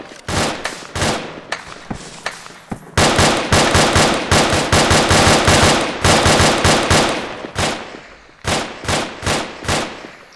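Rifle gunfire cracks out in rapid, loud volleys, sharp repeated shots in tight strings with short gaps, close and dominant throughout.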